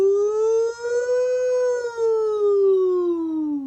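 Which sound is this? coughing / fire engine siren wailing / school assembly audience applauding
fire engine siren wailing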